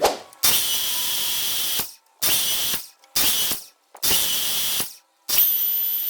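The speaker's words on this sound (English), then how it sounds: "And now I'm going to go in with the saw like I just did and put the saw up to that line." A hand saw cuts through wooden baseboard in four loud, raspy strokes, each about a second long and separated by short pauses, close to the microphone.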